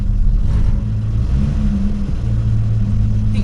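Engine of a Rover P4 saloon fitted with a crusty, rattling exhaust, starting up and settling into a steady low rumbling idle, loud and close, with a deep throb running continuously and no voices.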